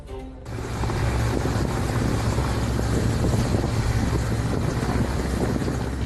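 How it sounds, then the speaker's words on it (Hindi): An air force helicopter hovers above a swollen, flooding river in Rajouri during a rescue, its steady loud rotor and engine roar filling the scene continuously, with some wind buffeting and no talking. "नीचे नदी में भारी उफान था और उसके ठीक ऊपर वायुसेना का हेलीकॉप्टर हवा में खड़ा था।"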